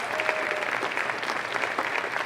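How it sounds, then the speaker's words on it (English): An audience at a school district leadership meeting claps steadily, a dense, even round of applause from a crowd filling the room for a couple of seconds. "Round of applause, let's go."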